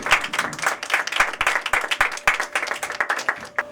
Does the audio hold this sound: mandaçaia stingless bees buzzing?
no